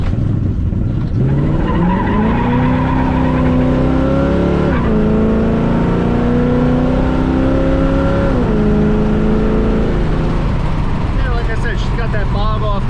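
A car launches hard off the line, its engine climbing in a loud, rising roar with tire noise, then holding high revs before easing off, while people talk over it.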